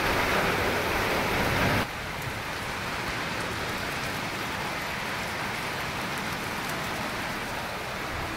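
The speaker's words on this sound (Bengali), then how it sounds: "বাইরে কিন্তু প্রচণ্ড বৃষ্টি হচ্ছে।" Heavy rain pours outside a village house in a dense, steady hiss, with a louder burst at the start before settling into a continuous downpour drumming on surfaces.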